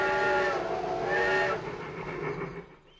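A train travels past with a loud whistle sounding in two sustained blasts over a rumbling rail noise, which fades and grows more distant toward the end.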